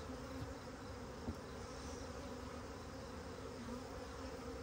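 Honey bees buzzing during the installation of a packaged colony into a new hive, a faint steady insect hum with no talk.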